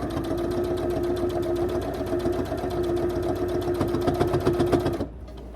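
A sewing machine stitching fabric, its fast even needle rhythm whirring steadily and close for about five seconds before stopping abruptly.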